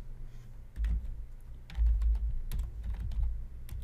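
HTML code is typed on a computer keyboard in quick irregular bursts of close, clicky keystrokes with thumping low key hits, separated by short pauses.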